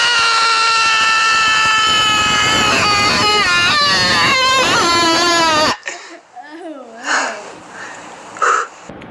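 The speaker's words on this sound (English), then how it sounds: "this guy actually has the loudest scream" Extremely loud human screaming, a sustained piercing shriek with wavering pitch filling the first half, then cutting to quieter, shorter vocal bursts.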